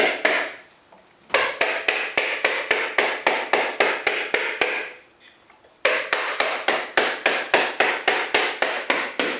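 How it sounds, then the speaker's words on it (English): A ball peen hammer beats a coconut with sharp, evenly spaced knocks, about three per second, in two long runs separated by a brief pause, loud and close with no talking. "And a ball peen hammer is a pretty good hammer for this."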